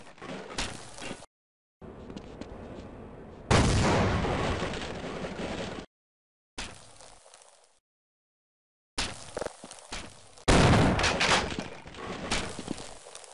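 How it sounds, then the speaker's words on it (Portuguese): Booming explosions and bursts of gunfire in the Half-Life video game, loud and broken into several separate blasts with short silent gaps between them, and no talk. "eu vou tacar uma granada nisso aqui"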